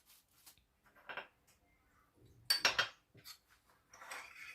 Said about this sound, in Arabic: هقلبه بقى مع الميه كده كويس جدا